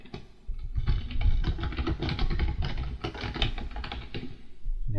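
Steady typing on a computer keyboard while a small business website is being edited, with dense, continuous key clicks running nearly unbroken throughout at close range.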